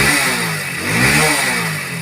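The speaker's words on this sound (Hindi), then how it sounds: "और अब मैं जैसे इसका एक्सीलेटर दिखाता हूँ" A Hero Splendor Plus BS7 motorcycle running E20 fuel, with a narrow spark plug gap, revs under throttle with a loud, close, rough engine roar that swells and eases slightly, with no talking.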